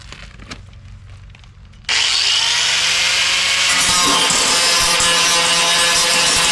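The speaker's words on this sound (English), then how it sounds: "then start the grinding process, dress this all up" An angle grinder bites into a car boot lid during restoration, starting abruptly after a quiet lead-in and then roaring on as a loud, sustained metallic grinding hiss close by.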